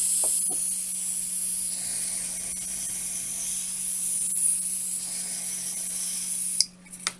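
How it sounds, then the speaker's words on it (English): An aeroson can of switch cleaner sprays in a long, steady hiss lasting several seconds, fairly soft and close, with a few faint clicks and ending abruptly with louder handling knocks. "what I'm going to do is put some switch cleaner"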